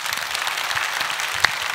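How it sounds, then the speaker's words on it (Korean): A Korean church congregation applauds during a sermon, a steady wash of many hands clapping at moderate volume with one sharper clap standing out near the end. "우리 주님께 박수합시다"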